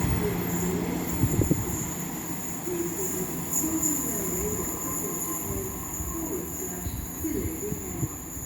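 A Northern train bound for Manchester rolls through Cheadle Hulme station on the West Coast Main Line, a low rumbling passage with faint wheel squeal and clatter, a high electrical whine above it, at moderate distance.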